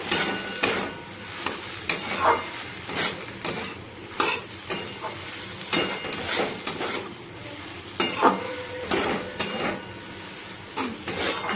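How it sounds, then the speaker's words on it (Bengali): Okra stir-fried with tomato ketchup in a pan, a steady sizzle broken by repeated scrapes and clinks of a utensil against the metal, close and fairly loud with no talking. "এই যে ভেন্ডিগুলো দিয়ে দিচ্ছি, ভালো করে ভেন্ডিগুলো ওর সঙ্গে কষিয়ে নিই।"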